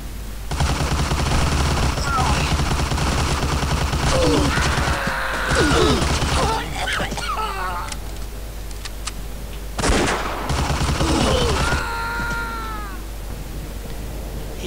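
Sustained heavy machine gun fire in the WWII Pacific theatre game Deadly Dozen 2, loud dense bursts running almost the whole time with brief gaps, mixed with other game sounds and someone talking over it.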